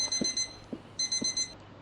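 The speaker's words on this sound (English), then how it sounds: "Turn off the alarm clock." An alarm clock rings indoors in two clear bursts of bright, repeating electronic beeps, separated by a brief pause, with soft low thumps underneath and no voices.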